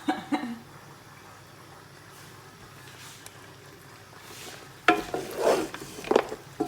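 Isi Ewu, spiced goat head, being stirred in a pot after Lolzz is added: soft scraping and wet mixing sounds, quiet at first, then a few louder clattering strokes near the end.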